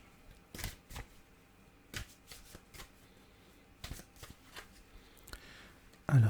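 Tarot cards are shuffled by hand for a reading, giving a quiet, close run of soft riffles and taps at irregular intervals, ending in a louder thump.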